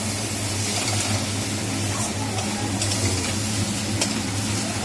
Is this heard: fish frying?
yes